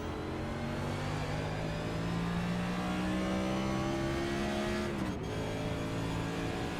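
A race car at Daytona in the iRacing game revs hard through a burnout, a sustained engine tone rising steadily in pitch before dropping off sharply, heard alone.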